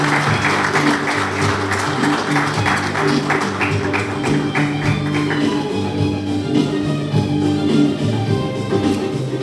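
Audience applause at an award ceremony as honorees are invited to the podium, a steady spread of clapping over a constant low hum, continuing without speech for about nine seconds.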